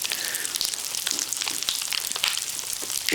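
Dense, fizzy crackling pops continuously up close as Mr. Bubble Magic Bath Crackles burst in sticky slime, like tiny bubbles bursting in a wet mixture, steady and hissing throughout.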